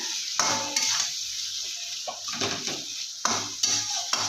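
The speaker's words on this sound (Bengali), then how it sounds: "এবার বেশ করে কষাতে থাকবো বেশ সুন্দরভাবে কষিয়ে নেব" Rohu fish pieces with bitter gourd and potatoes being stirred and sautéed in a pan, with a soft sizzle and repeated scraping strokes of a spatula coming in short bursts, close by and without talk.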